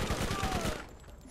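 Gunfire from a weapon in the shooter game Borderlands, a dense burst of shots lasting under a second, then fading into low background game noise.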